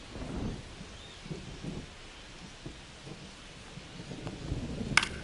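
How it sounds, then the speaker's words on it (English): Steady rain with low rumbling thunder in a St. Louis Cardinals at New York Mets baseball video game, a soft continuous wash broken by a few distant rolls and a sharp crack near the end. "This rain is not letting up."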